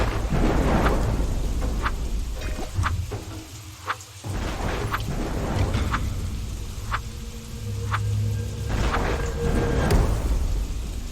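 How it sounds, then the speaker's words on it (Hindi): Rain pours steadily in a Minecraft game, with rumbling thunder and sharp crackles breaking through the downpour again and again. "उसी टाइम बारिश होने लगती है"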